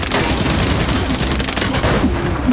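A grenade blast in the shooter game Arena Breakout: Infinite, a loud sustained rumble with crackling debris and gunfire-like bursts throughout.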